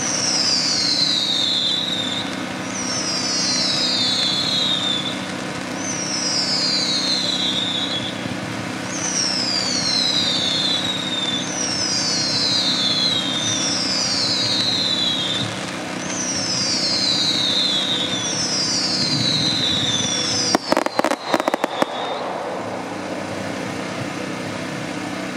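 Aerial fireworks at a Casabella demo fire a run of shells, heard as a regular series of about ten whistling tails falling in pitch, with a brief crackling burst near the end over a steady background hum.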